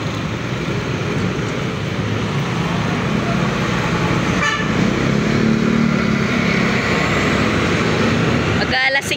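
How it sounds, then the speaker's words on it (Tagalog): Busy late-afternoon street traffic with many vehicles: a loud, steady roar of engines and motorcycles with a horn toot, heard close with people talking over it. "Maraming sasakyan."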